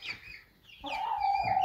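Dominant breed hens clucking close by, a soft chattering call followed by a steadier, louder clucking run with no talk.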